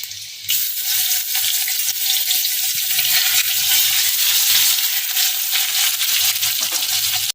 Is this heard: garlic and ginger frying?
yes